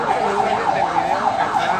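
Ambulance siren wailing steadily in a repeating rising-and-falling pattern, loud and close throughout with no talk over it.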